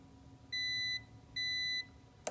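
A multimeter continuity tester gives two steady electronic beeps, each about half a second long, while probing the ground wire on an idle air control valve connector. A small click follows at the end.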